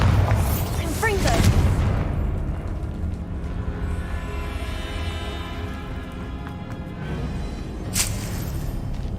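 The Bombarda explosion spell in the video game Hogwarts Legacy lets off heavy booming blasts near the start and again near the end, with a sustained rumbling tonal wash of game sound in between.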